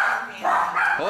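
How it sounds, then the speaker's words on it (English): Dogs bark briefly in a home during a Christmas gift opening, with a couple of quick barks and yips mixed into nearby voices. "The dogs are barking."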